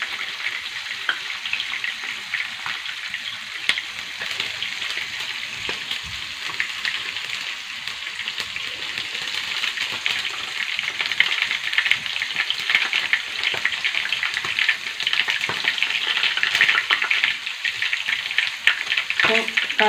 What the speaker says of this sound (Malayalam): ഇപ്പോൾ കടുക് പൊട്ടുന്നുണ്ട്